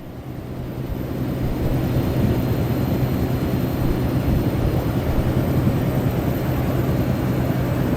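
Westland Scout helicopter lifting off in Microsoft Flight Simulator 2020, a steady broadband turbine and rotor roar that swells over the first second and then holds loud and even, with no talking.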